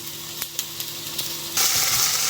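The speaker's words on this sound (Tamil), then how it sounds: "நம்ம வெண்டைக்காயை நம்ம வதக்கிக்கலாம்." Okra sautés in a pan with steady sizzling broken by a few soft clicks and stirring taps, then the sizzle suddenly grows louder and brighter near the end. No one talks.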